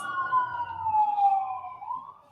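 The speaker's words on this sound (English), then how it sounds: "Do you hear those sirens?" A single siren wails from a distance, its pitch sliding slowly down and then rising again, steady and moderately faint.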